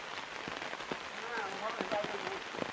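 A downpour in a village in Nghe An, Vietnam makes a constant patter of heavy drops on surfaces, with sharp close impacts and some brief chirpy tonal sounds rising through the rain.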